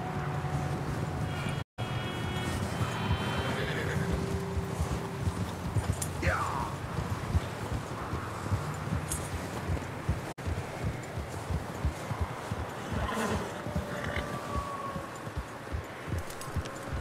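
Horses in Red Dead Redemption 2 clip-clop in a steady, close rhythm on the ground, with a brief neigh partway through over light wind and rustling.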